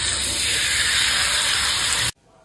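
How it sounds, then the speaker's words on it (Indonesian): Hot frying oil, left over from frying skin, is poured over chili sambal, giving a loud, steady broadband sizzle and hiss that runs for about two seconds and then cuts off abruptly into near silence. "Ini aku siramnya pakai minyak panas dari hasil goreng kulit yang tadi ya"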